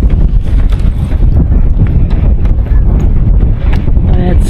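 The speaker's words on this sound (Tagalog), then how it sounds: "sarap ng hangin" Steady wind buffeting the microphone outdoors at a low-tide shore in White Rock, British Columbia, a low rumbling roar that continues throughout with faint background sounds.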